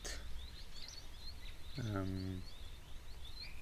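Small firefinch-like birds give a run of high chirps and thin whistles at a waterhole, a steady scatter of short notes, with a brief lower harmonic call cutting in midway.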